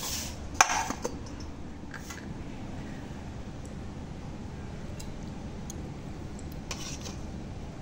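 Rice is served onto plates for a home meal of fish curry and fried vegetables: a few light clinks of dishes and utensils come early, then a low, steady background rumble continues with occasional faint taps.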